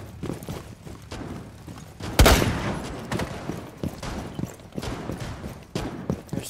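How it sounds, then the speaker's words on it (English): Sustained gunfire in Rainbow Six Siege, with a loud burst of shots near the middle followed by a steady stream of rapid shots. "Still shooting."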